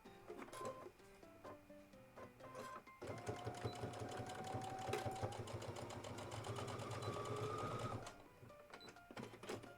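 Domestic sewing machine stitching the top and bottom of a dress together, a steady close whirring run from about three to eight seconds, framed by brief starts and handling clicks.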